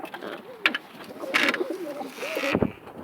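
Tumbler pigeons coo softly nearby in a few short, throaty bursts, with faint clicks and rustles around them.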